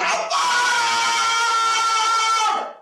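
A woman screams during an exorcism, loud and sustained, with a brief break early on, then one long, strained, harmonic-rich shriek that fades out near the end.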